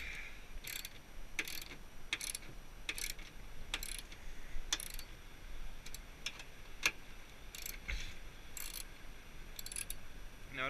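A ratchet wrench tightens the bolts on a car battery terminal, giving off repeated short clicking bursts in an uneven rhythm, close and fairly clear against a low background hiss.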